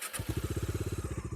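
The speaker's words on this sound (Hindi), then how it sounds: "ये इसका आइडल साउंड" A stock-exhaust Bajaj Pulsar 250 motorcycle idles close by with a steady, even thump of engine pulses, loud and alone after a brief quiet start.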